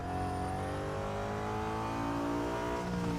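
In Real Racing 3, a fast little car's engine howls at sustained high revs, its tone climbing gradually through the stretch without any talking.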